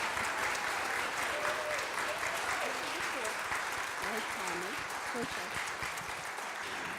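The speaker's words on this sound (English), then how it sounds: "Let us give these former board members a nice round of applause for their service." A congregation gives former board members a steady round of applause, with dense continuous clapping and some voices beneath it.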